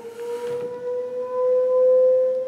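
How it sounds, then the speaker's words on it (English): Tornado sirens sounding during a city's weekly test in a southern US state, a steady sustained wail holding one pitch and swelling louder toward the end, heard from a distance without talk. "you may not have to deal with this, but those are tornado sirens"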